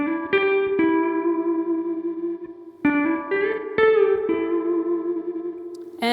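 Electric guitar with echo and distortion effects playing the opening lines of a solo, with long sustained bending notes and a few picked attacks, loud and close with no talking.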